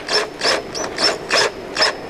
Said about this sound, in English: The next step is to simply sink my number 6 machine screw through my pilot hole